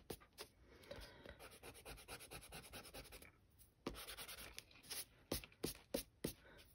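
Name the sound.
eraser rubbing pencil off paper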